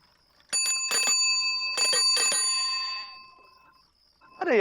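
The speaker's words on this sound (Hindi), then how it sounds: "तुम जा घंटी बजा रही हो" A bicycle bell rings brightly in several quick trills, the last one decaying slowly, close and clear, on the set of a Hindi comedy series, then a voice begins right at the end.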